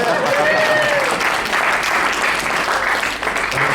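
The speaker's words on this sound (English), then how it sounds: "Round of applause for Wyatt." Wedding guests applauding during the reception speeches, a full, continuous round of clapping from the crowd with a voice faintly mixed in beneath it.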